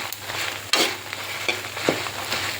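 Coriander and cumin seeds fry in a pan with a steady close sizzle, broken by a few sharp stirring scrapes and pops at irregular moments; no one speaks.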